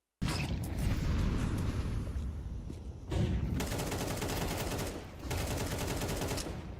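Rapid automatic gunfire from Counter-Strike 2 match play, dense bursts of shots in several long volleys separated by brief pauses, loud and close.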